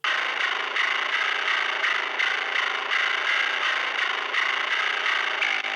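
A gritty, distorted bass guitar tone with the low end cut by EQ and the pick attack boosted, playing a steady, repeating riff on its own.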